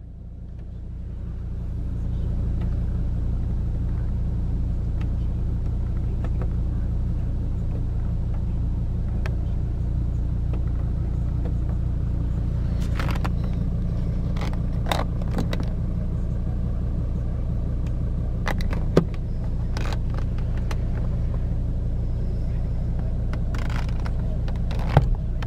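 A 2006 Volvo V70 2.4D Sport diesel idles steadily after start-up, a constant low rumble with a few faint clicks and brief sharper knocks over its 25 seconds, no voices.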